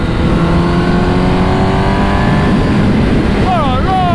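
A Honda CBR 1000 RR-R Fireblade motorcycle ridden fast on the road, engine droning loud and steady with rising harmonic tones and a sharp pitch swoop near the end, plus strong wind rush; a rider speaks over it.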